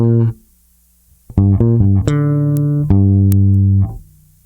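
Guitar phrase from a song, a single ringing note that stops, then a short run of plucked notes settling into sustained tones, close and clean without talk.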